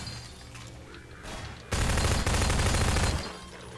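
Enemy gunfire in the video game Half-Life 2: a loud, rapid burst of automatic shots lasting about a second and a half, close and harsh, set against a quieter background rumble.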